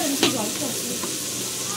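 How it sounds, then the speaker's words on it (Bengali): Onions fry together with meat for a student picnic feast, giving a steady, close sizzle with one quick stirring scrape near the start. "পেঁয়াজটা ভাজা হোক, বুঝলি?"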